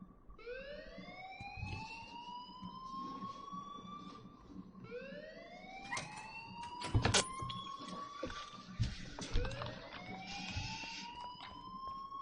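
An alarm ringing in the video game Life is Strange: rising, siren-like wails repeat in slow sweeps, each climbing in pitch, with scattered clatter and thumps mixed in at moderate loudness.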